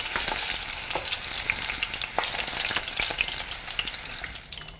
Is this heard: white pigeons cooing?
no